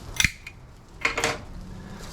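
A metal cooking pot being picked up and set down on a stove while making beef stew, giving two sharp clanks close by and then a softer scraping knock, with quiet in between.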